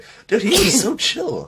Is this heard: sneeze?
yes